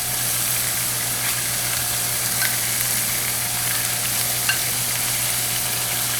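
Tomatoes fry in a pan for chicken cacciatore with a loud, continuous sizzle and hiss, broken now and then by faint stirring clicks.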